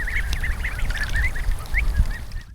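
Ducklings raised in rice paddies call in a steady run of short, quacking peeps close by over a rough background, with no talk.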